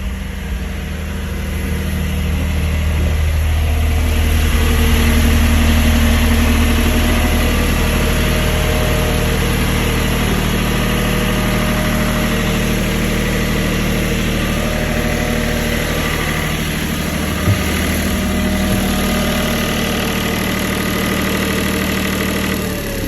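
A CAT C18 diesel generator engine idles loud and close with a steady, throbbing low rumble and faint knocking, continuing unbroken for over twenty seconds with a few brief clicks near the end.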